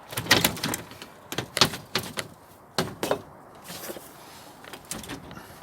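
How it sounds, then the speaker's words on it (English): A greenhouse door frozen shut on a UK allotment is yanked and rattled, giving a series of sharp knocks and clunks in irregular bursts, close by with no talk. "Can't even open that door, it's froze."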